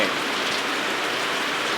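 Rain falling steadily in a hissing, even downpour, loud and close throughout, with no voices or other sounds over it.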